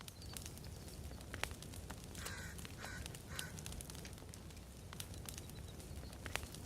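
A crow caws a few times at middle distance in The Forest video game, short harsh calls over a steady wind-like outdoor ambience with no talk.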